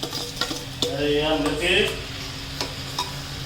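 Three kinds of dal drop into a sizzling tempering for khichdi, a short burst of hot-oil crackle with stirring scrapes and a brief voice in the background.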